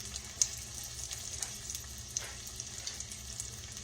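Catfish nuggets frying in a pan, a steady close sizzle with scattered small pops and crackles throughout.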